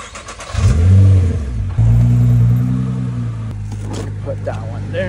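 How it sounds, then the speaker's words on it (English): Nissan GT-R engine revs as the car drives back onto ramps during an oil change, a close, loud rumble that surges twice then settles to a steadier idle, with voices talking over it. "Back up the car and then I'll put those in place and then you can just drive back on."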